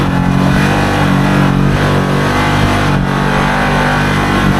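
Can-Am Maverick XMR Sport side-by-side cruising through sand in four-wheel drive at steady revs, a loud continuous engine drone with constant rumble and no clear speech over it.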